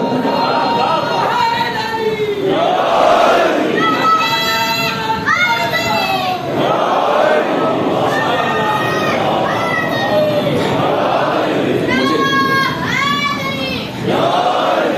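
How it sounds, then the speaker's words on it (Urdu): A large crowd at a religious sermon loudly chants slogans in unison, with rising and falling shouted bursts that repeat over a constant roar of many voices. "مجھے اتنے نعرے دے رہے ہیں"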